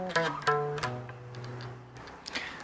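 Electric or acoustic guitar plays a short bar of a song alone, a few plucked notes with audible slides gliding between pitches, close and clear with decaying sustain.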